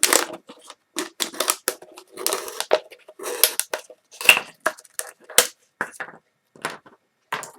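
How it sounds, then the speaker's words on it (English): Craft knife slicing through a thin plastic water bottle to remove its top, a series of close, crisp crackling cuts and crunches in irregular bursts with brief pauses between strokes. "I just take a craft knife and cut off the top"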